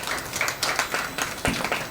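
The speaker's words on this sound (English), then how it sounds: "Give a big round of applause for all the participants" An audience at the National Youth Parliament Festival 2023 claps for the participants and staff, a dense, steady patter of many hands with irregular sharper claps standing out, moderately loud and with no talk over it.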